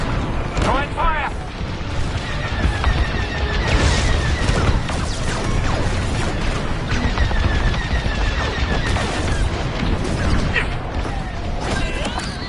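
Starfighter blaster fire and explosions during a Star Wars: Squadrons space battle against a Coronet's shield generators, dense sustained bursts and booms throughout under engine roar, with radio voices talking over the action.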